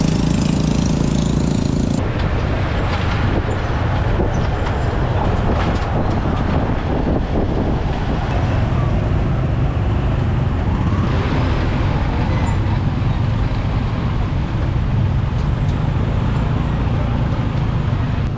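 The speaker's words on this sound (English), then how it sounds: "I'm in a tuk-tuk" Tuk-tuk ride through the streets of Cambodia: a steady, dense motor drone mixed with road and traffic noise runs throughout, loud and close, with a brief change in tone in the first couple of seconds.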